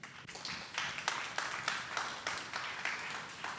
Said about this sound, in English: loud applause to Keith